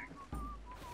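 A person whistles a short, faint, steady tone during a Sea of Thieves game session, heard alone and quietly for about a second.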